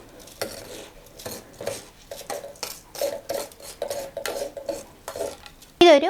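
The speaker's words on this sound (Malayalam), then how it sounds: "അരി ഒരുമിച്ച് നമുക്ക് ഈ മിക്സിയുടെ ജാറിലേക്ക് ഇട്ട് കൊടുക്കാം." Soaked rice, drained of water, is tipped and scraped into a mixer grinder jar in a series of short gritty scrapes and clatters, ending with a brief sharp clink of the jar.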